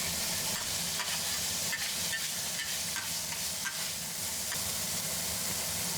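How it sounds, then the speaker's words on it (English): Meat and ginger fry in hot oil in a pan, a loud continuous sizzle with repeated scraping clatters of stirring, no voices. "and stir up until it sizzles."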